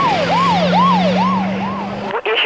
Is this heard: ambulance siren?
yes